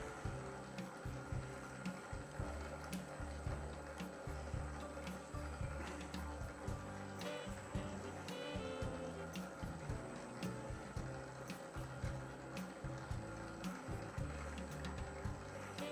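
A Grilletta dough kneading machine runs at low speed with a steady, rhythmic mechanical churning and faint liquid sloshing as water and salt are worked into the dough, quiet and continuous throughout.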